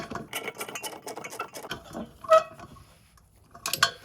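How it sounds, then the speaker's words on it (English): A nut on a Chicago Electric 18 lb vibratory tumbler is turned with a 1/2 inch socket while an Allen wrench holds the other side, producing a quick run of close metallic ratchet clicks, then a pause and a few more clinks. "I'm grabbing my Allen wrench, holding the other side. I'm rotating the nut."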